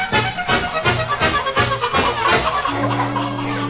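Chickens burst noisily out of a chicken house in a loud, overlapping flurry of squawks and clucks, ending in a steadier sustained cry.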